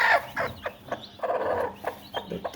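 A brooding hen clucks protectively over her hatching chicks, giving a series of short, close, agitated clucks and low grumbles in quick irregular rhythm with no talking.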